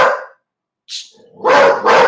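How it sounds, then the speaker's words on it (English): A dog barks in short bursts, loud and close, with a couple of sharp barks and a brief higher yip between them, at a home during a live online sale. "There goes my dog."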